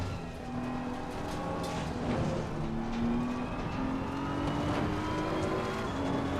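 A race car in Assetto Corsa Competizione pulls out of the pits in first gear, its engine droning steadily with rising, whining pitch under a constant rushing noise.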